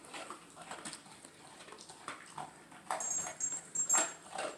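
A cane corso dog whimpers softly in a few faint, scattered bursts, growing a little stronger toward the end. Small shuffling noises sound nearby.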